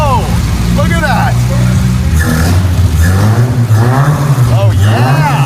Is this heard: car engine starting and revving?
yes